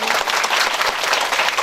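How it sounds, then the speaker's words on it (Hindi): Dense, vigorous applause from a seated audience at a Bhagavat Katha religious gathering, a continuous wash of many hands clapping close and loud throughout. "आपके लिए भी एक बार जोरदार तालियां।"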